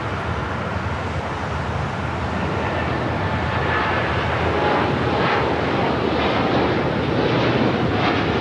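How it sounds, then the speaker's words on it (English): A Japan Airlines Boeing 787 Dreamliner rolls along the runway at LAX, a steady, moderately distant jet engine rumble and whine that swells slightly and holds throughout, with no voices. "Now we got that Japan Dreamliner now rolling down to 25 right."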